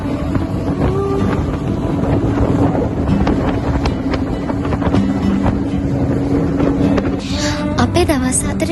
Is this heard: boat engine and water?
yes